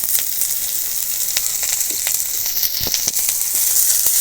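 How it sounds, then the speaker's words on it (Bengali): Chopped onions and two broken dried red chilies hit hot oil in a home kitchen pan, giving a loud, steady frying sizzle with crackling pops throughout, and no voices. "এবার দিয়ে দেবো পেঁয়াজ কুচি দিয়ে দেবো দুটো শুকনো লঙ্কা"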